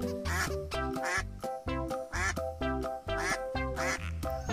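A cartoonish yellow duck quacks repeatedly in a steady, bouncy rhythm, loud and close, set against a playful musical backing with no talking.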